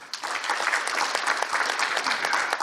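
A crowd applauding steadily, dense clapping that holds at an even level throughout.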